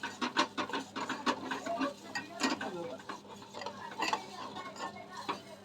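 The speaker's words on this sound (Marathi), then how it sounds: "त्याच्यामध्ये परतायचं आहे पूर्ण परतून घ्यायचं आहे" Spoon stirring and sautéing peas for kheer in a pan over low gas, with quiet irregular scraping and clinking strokes close by.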